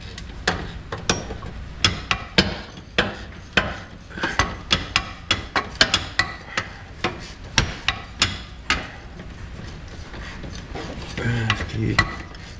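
A ratchet tightening a bolt on a 1967 Bonneville, heard up close as a run of sharp, fairly regular clicks and knocks across the whole stretch, with a few short pauses between bursts.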